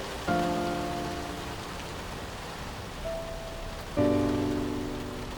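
Steady rain hisses throughout, with tonal ringing sounds starting abruptly twice and fading out, plus a brief tone in between.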